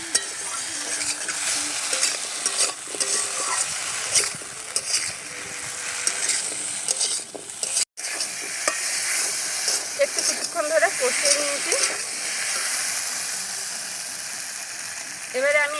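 Taro (kochu) being stir-fried dry in a pan without added water, with steady sizzling and stirring scrapes running close and continuous throughout, briefly cutting out once midway.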